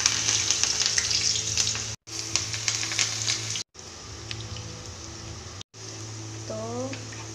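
Besan-coated nuni greens pakoras fry in hot oil with a loud, steady sizzle and crackle, broken by a few brief gaps, with no speech.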